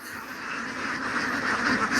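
Ducks quacking on a large duck farm in Laos, a dense, continuous chorus of many birds at moderate distance, steady throughout the short stretch.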